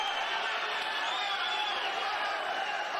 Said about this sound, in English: The crowd's starting to come alive here in the Manage Arena